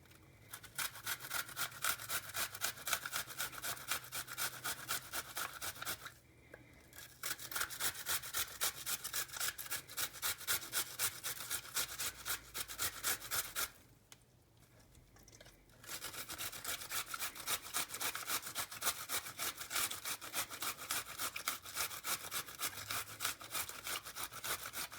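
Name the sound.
grating an onion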